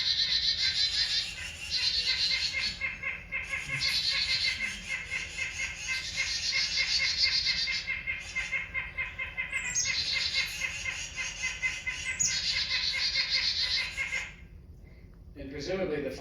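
Three bird species mobbing a predator together, a dense, continuous chorus of overlapping high chirps, squawks and scolding calls that runs loud for about fourteen seconds before thinning out, with some low background noise underneath.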